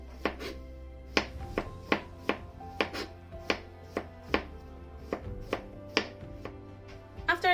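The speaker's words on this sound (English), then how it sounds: "now you slice the cucumbers" A knife slices cucumbers finely on a cutting board: about a dozen crisp, evenly spaced chops, close and clear against a quiet, faintly humming room.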